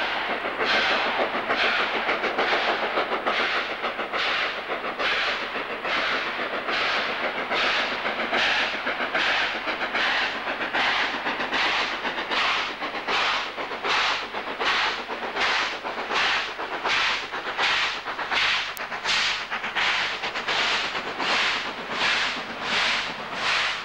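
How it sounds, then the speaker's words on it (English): The Flying Scotsman 4472 steam locomotive chuffs steadily and rhythmically at close range from the footplate, its regular exhaust beats mixed with hissing steam and rumbling machinery. "the footplate of the most famous steam engine in the world"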